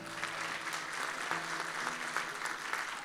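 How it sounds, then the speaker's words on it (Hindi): A church congregation claps together in a sustained, steady burst of applause during a Christmas worship service celebrating the birth of Jesus, dense and continuous throughout with a faint sustained tone beneath. "खड़े होकर तालियां बजाएं यीशु का जलाल के लिए"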